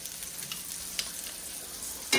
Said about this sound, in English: I always like to give it a nice pan sear